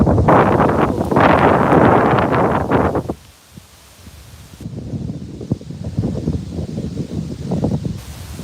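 Strong cold wind on an outdoor walk buffets the microphone in loud, rough gusts, dropping to a lull midway before roaring back, with leaves rustling under it.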